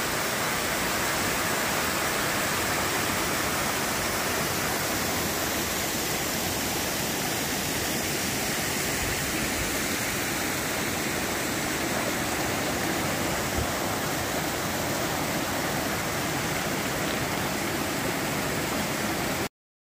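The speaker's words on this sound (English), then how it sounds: "I really love the streams, the flowing cascades." A cascading stream on the Appalachian Trail rushes steadily and loudly, a dense broadband wash of flowing water that holds constant for about twenty seconds with no voices.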